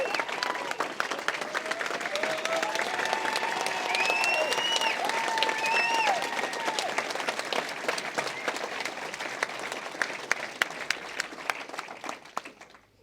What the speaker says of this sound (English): I don't know if they want to stand so we can give them a clap